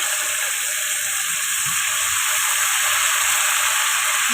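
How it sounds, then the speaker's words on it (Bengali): Water goes into sautéed soybean masala in a hot pan and sets off a loud, steady hiss and sizzle of steam that runs close and unbroken throughout. "এবার জল দিয়ে দিচ্ছি।"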